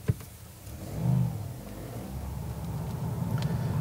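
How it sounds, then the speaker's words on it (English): A Toyota GR Yaris engine fires up with a deep, gritty clatter, then settles into a steady, rumbling idle close by. "Fire the engine and there's a deep but potent clatter."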